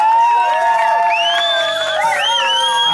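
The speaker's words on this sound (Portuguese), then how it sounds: "Então uma salva de palmas para nossa homenagem." A crowd cheers at a surprise romantic reconciliation tribute for Wellington in Santo André. Loud, high whoops and sliding shouts overlap, while clapping is hard to pick out.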